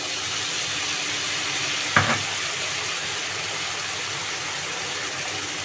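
Water poured onto spices frying in a pan for a potato and pangas fish curry gives a steady, fairly quiet hiss with one short, sharper burst of sizzling partway through.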